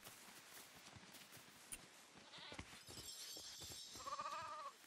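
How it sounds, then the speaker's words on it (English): Sheep in the video game LEGO Fortnite give a faint bleat near the end, heard among soft game footsteps and clattering in a quiet scene. "Oh, look, sheep. And that's what the sheep look like."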